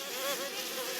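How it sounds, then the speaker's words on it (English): Bees buzzing around a beehive in the survival video game DayZ, a steady close insect drone holding level throughout with no speech. "you got your beehive, you got your bees in it"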